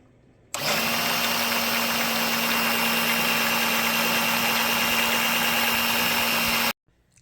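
A cheap $10 battery-powered fluid extractor pump, hooked to a car battery during a Dodge Avenger thermostat housing job, drones steadily with a loud motor hum that kicks on abruptly and runs about six seconds before cutting off, no talk over it.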